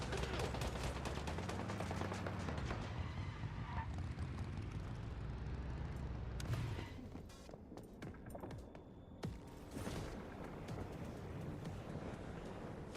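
Gunfire in the video game Once Human, a steady, dense roar of shots mixed with engine-like rumble. It stays loud and unbroken, eases slightly partway through, then swells again.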